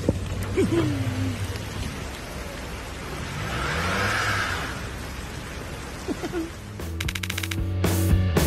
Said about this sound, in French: être pris dans une tempête de pluie comme celle-ci